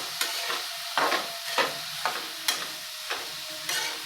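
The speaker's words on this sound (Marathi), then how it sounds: "चांगलं असं हलवून घ्या." Spiced brinjal curry with black masala, turmeric, garam masala and salt being stirred in a pan, a spoon scraping in six or seven regular strokes over a soft, steady sizzle, close and fairly loud.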